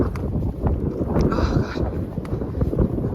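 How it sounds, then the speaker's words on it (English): Wind gusting across Newborough Beach on the Anglesey coast, a steady low rumble buffeting the microphone throughout, with no voices over it. "Oh god. It's windy."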